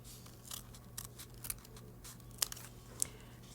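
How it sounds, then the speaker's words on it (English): Scissors snip through folded paper close up, a quiet series of short crisp cuts in an irregular rhythm, a few sharper clicks standing out, with no talking. "And then I can cut."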